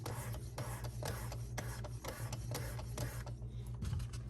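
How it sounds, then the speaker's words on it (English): Sharpening stone stroked across a single-bevel broadhead to remove the burr: close, rhythmic rasping rubs about twice a second over a low steady hum. "I'm lifting the stone up and I'm going to take the burr off"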